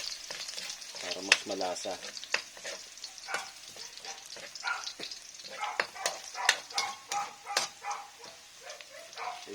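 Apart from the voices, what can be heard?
garlic frying in oil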